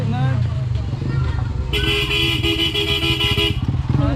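A motorcycle horn honks in one sustained blast over a running engine, with people talking around it.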